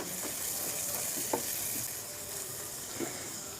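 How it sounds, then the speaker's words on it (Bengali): Ground coriander, chili powder and salt fry in a pan for an eggplant curry while being stirred, making a steady close hiss broken by a few soft scraping strokes. "এবার মিশিয়ে দেব।"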